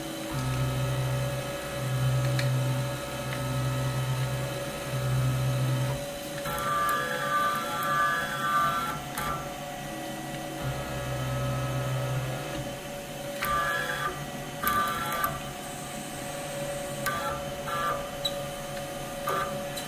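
Steady machine tool whirring and humming while machining a crankcase, with a repeating low pulsing tone early on, later higher whines and scattered clicks throughout.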